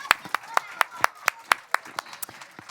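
Applause for children at an indoor event in the Telia headquarters, heard as about a dozen sharp, evenly spaced claps in a steady rhythm, fairly close and moderately loud, with no one talking.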